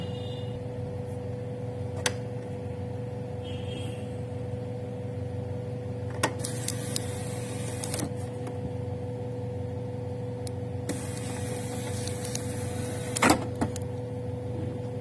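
Canon PIXMA MG25-series printer fitted with a continuous ink supply tank system, running a print job: a steady mechanical hum with intermittent clicks and short whirring bursts of the print head, close and alone.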